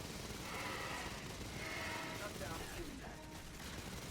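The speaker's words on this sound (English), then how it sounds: "Smart gun time." Rapid automatic fire from a smart gun in the sci-fi shooter game Aliens: Fireteam Elite, a dense continuous rattle of shots with mechanical clatter running steadily throughout.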